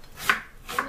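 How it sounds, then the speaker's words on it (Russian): A kitchen knife chops an onion on a cutting board with two crisp, close chops about half a second apart, alone without speech. "Нам нужно порезать лук."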